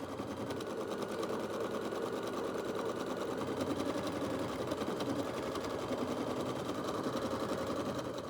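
An embroidery sewing machine stitches quilting stitches in a hoop with a rapid, even mechanical whir that stays loud and constant throughout.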